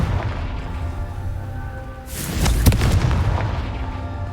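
A Confringo fire spell blast in Hogwarts Legacy lands as a single loud booming burst about halfway through, rising over a low rumbling background and fading out in a rough rolling tail.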